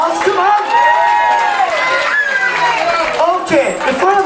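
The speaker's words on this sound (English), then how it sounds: "give them an applause" A lively crowd at a 60th birthday party cheers, whoops and shouts loudly, with voices calling out over the noise and a few claps mixed in.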